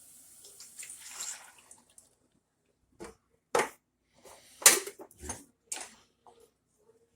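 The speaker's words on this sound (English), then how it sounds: "take your can of crushed tomatoes and pour that right in" Crushed tomatoes from a can glugging and plopping into a cooking pot in a series of separate, close, fairly soft bursts with quiet gaps between them, no talking.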